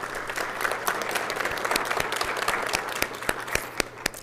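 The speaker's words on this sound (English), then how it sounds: "Let's give a great round of applause for Community Development Week" Applause rises in a city council meeting room for Community Development Week, a moderate crowd clapping steadily before it thins into a few distinct, scattered claps near the end.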